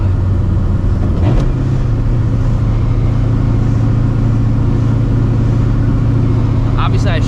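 A 600hp supercharged New Edge Mustang GT pulls hard from inside the car, a loud droning engine roar holding steady after a quick shift, while a person talks over it.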